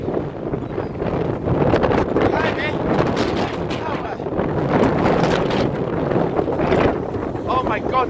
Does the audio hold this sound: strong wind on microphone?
yes